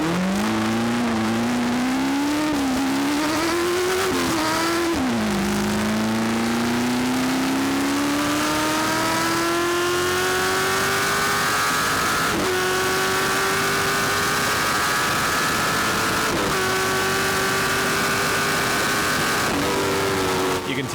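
Onboard a 1965 Ford Mustang GT race car held on the rev limiter down the Shepparton runway at a Victoria rally: a loud, continuous engine roar whose pitch climbs steadily, with brief dips at gear changes.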